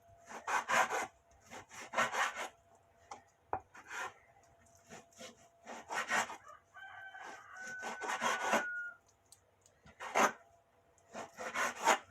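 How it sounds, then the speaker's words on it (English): A knife gives bacon a rough chop on a cutting board in a home kitchen, in quick clustered bursts of close, scraping strokes with short pauses, while a rooster crows faintly in the background. "We're just gonna give it a rough chop."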